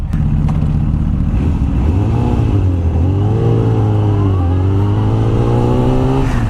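A high-cc motorcycle engine idles roughly with the choke on. Its loud, close, continuous drone wavers and sags in pitch as it barely keeps running, with no voices.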